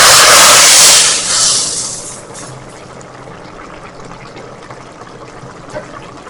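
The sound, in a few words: hot tempering poured over chhole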